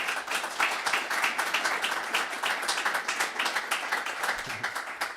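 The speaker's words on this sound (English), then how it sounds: "Round of applause for them." A crowd at a security specialist course graduation applauds steadily, many hands clapping in a dense, even patter that holds throughout and fades slightly at the end.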